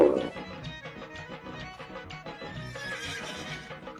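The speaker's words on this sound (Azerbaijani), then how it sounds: "at, Atın balası." A horse whinnies over a dense background of music, the neigh standing out near the start before blending into the steady musical bed.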